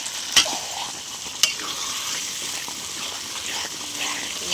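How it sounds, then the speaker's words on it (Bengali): Mutton pieces fry and sizzle in a wok with cooked-down spice paste for mutton biryani, a constant close hiss with two sharp clanks of a spoon stirring early on. "সেখানে খাসির মাংসটা আমি দিয়ে দিলাম কড়াইতে"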